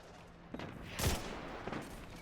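Gunfire in the video game Destiny 2 played on PC, a short burst of a few quick shots with one louder blast in the middle, set against faint background game sound.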